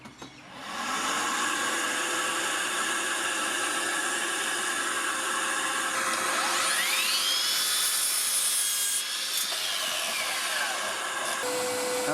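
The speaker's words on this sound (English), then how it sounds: "I'm going to set the vac to on and run it on the miter saw" A Makita 40V cordless dust extractor runs continuously at full suction while hooked to a mitre saw, giving a loud, steady airy roar with a rising and falling whine in the middle, alone with no talk.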